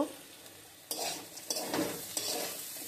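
Bitter gourd fries in a pan with a soft sizzle, broken by several distinct scraping strokes of a spatula stirring it, each stroke bringing a brief louder rustle over the quieter frying.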